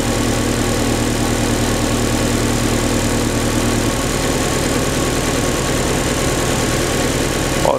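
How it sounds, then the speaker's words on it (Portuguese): A Chevrolet Corsa Classic with high fuel consumption and low power idles roughly and shakes. Its engine drones continuously at close range with a throbbing, uneven pulse that shifts partway through. "Motor tremendo muito, ó. Deu uma estabilizadinha na marcha lenta."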